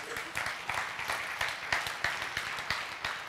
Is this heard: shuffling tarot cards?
no